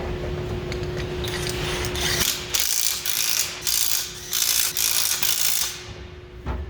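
A 3/8-inch impact gun runs down bolts on the EGR cooler of a 6.7 Ford diesel in a series of loud, close rattling bursts separated by short pauses, over a steady background hum.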